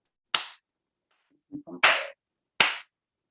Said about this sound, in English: How many times are you meant to do this clapping?